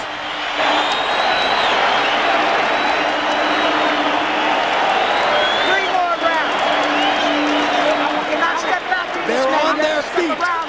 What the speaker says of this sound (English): Standing and applauding both fighters